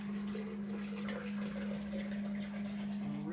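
Water pours steadily into a crock pot for a batch of pinto beans, a continuous close splashing fill with a steady low hum underneath and no talking.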